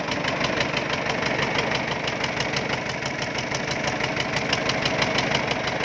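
A Ford tractor engine, with a problem, runs steadily up close, a loud, rough diesel chug with a fast knocking rhythm that never lets up.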